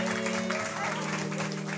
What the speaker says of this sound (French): Bravo Christine, on l'applaudit.